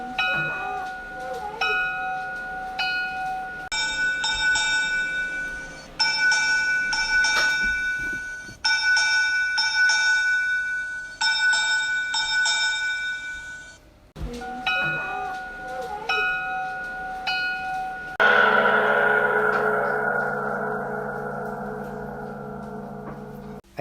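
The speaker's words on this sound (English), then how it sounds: "give 3 separate and distinct strokes on the bell immediately before and after the rapid ringing of the bell." A ship's bell signalling a vessel aground in fog: three separate, distinct strokes, then bursts of rapid ringing, then three more strokes. The bell is clear and resonant, and a long sustained tone sounds near the end.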